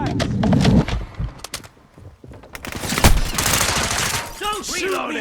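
Rapid bursts of automatic gunfire and single shots in Call of Duty Modern Warfare 2 team deathmatch, loud and near, with explosive cracks and clattering game effects around them and brief in-game voice lines underneath.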